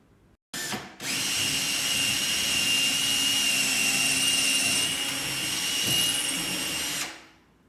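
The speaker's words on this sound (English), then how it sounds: "I'll drill a pilot hole and then set up the rail from there" A power drill drilling a pilot hole for a barn door rail whines steadily at high speed for several seconds, loud and close, starting abruptly and winding down at the end.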